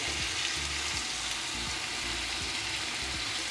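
Chicken fries in a pan for biryani, a continuous soft sizzle with low background rumble throughout.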